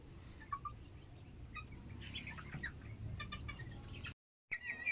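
Backyard laying hens clucking and chirping in short, scattered calls at close range over a steady low background rumble, with a brief silent gap near the end before the calls resume.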